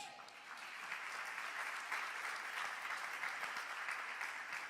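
A church congregation gives a sustained round of applause for Jesus during a sermon, a steady wash of many hands clapping heard at a distance, fairly faint throughout.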